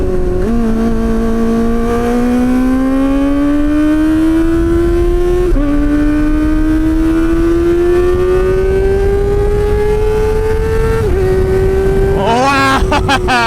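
A Kawasaki ZX-4RR motorcycle with its exhaust baffles removed revs wide open through the gears, a loud high-pitched wail climbing steadily with brief drops at each shift and a sharp crackle near the end.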